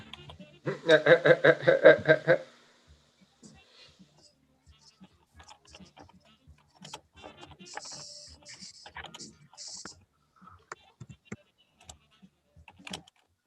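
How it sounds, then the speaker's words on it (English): Keys on a computer keyboard tap in scattered, uneven bursts of light clicks for about ten seconds, following a brief loud burst of voice or laughter at the start. "Not typing well today, but that's okay."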